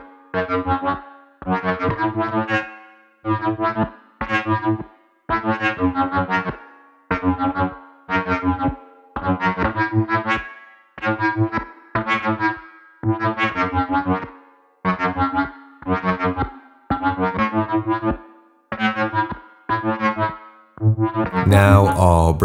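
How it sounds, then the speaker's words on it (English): A modular synth wavefolder, sine wave removed, plays a rhythmic sequence of short, bright, harmonically rich tones, each note cut off by silence, repeating steadily alone for about twenty seconds. "Now I'll take away the sine wave so we can hear the output of the wavefolder by itself."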